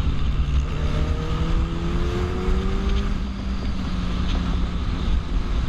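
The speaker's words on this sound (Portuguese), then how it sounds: "o motoca consegue uma brecha e acelera." A Suzuki Hayabusa motorcycle accelerates hard, its engine note climbing in pitch through rising sweeps under heavy, constant wind roar, loud and close throughout.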